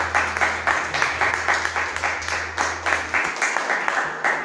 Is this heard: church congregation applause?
yes